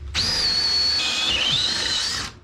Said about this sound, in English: I'll have to drill this one in place.